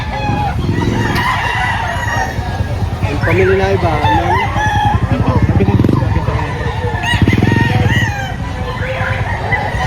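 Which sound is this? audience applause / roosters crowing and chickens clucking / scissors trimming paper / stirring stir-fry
roosters crowing and chickens clucking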